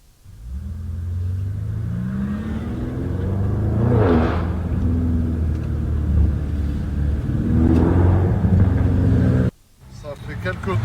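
An Audi RS6 engine revs repeatedly in a deep rumbling surge, rising and falling in two long pulls before cutting off sharply, loud and close from inside the car, with a voice talking over it.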